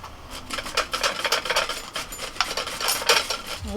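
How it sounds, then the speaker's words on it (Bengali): A carrot rasps against a metal grater in quick, repeated strokes, close and fairly loud, with a busy scratchy rhythm throughout. "একইভাবে আমি গাজরটাকেও একটুখানি গ্রেট করে নিচ্ছি"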